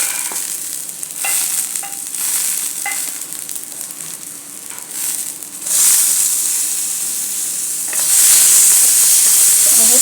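Green chillies and a cut tomato sizzle and hiss steadily while roasting in a pan, the frying noise swelling louder partway through and again near the end, with occasional stirring scrapes and no talk.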